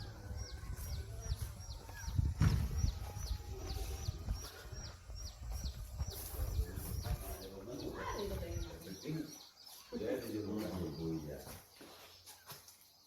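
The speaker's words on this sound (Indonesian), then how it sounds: "Itu ya, adik kita burung." Pigeons or doves cooing repeatedly alongside chirping bird calls in a village setting, with people talking over them and steady outdoor background noise.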